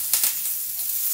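Chopped onion and curry leaves sizzle in hot oil in a pan for a chana chutney. The crackle is steady and close, with brief bursts near the start.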